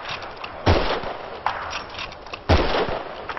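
Three separate gunshots from a rifle in a first-person shooter video game, fired at a target over a low steady game background, each a sharp, close crack.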